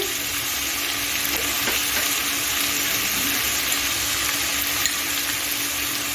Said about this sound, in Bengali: আলু দিয়ে দিচ্ছি এখন একটু নেড়ে চেড়ে নিচ্ছি